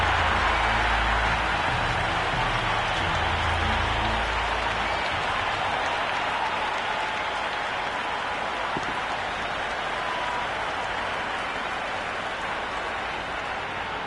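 A Cricket 26 video game crowd roars after a hat-trick in an IPL match, a loud dense wash of cheering and applause that holds steady throughout with no clear speech.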